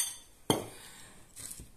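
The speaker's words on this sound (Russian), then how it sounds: "буду смешивать все ингредиенты для будущего летнего салата" Chopped tomatoes, onion and other raw vegetables for a summer salad being mixed in a bowl, with a sharp clink of a utensil against the dish followed by softer scraping and a second clatter, close and fairly quiet.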